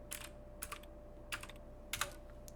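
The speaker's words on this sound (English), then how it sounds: "my typing's kind of sucky right now" Typing on a computer keyboard comes in a few irregular bursts of close, crisp key clicks separated by short pauses, fairly quiet over a faint background hum.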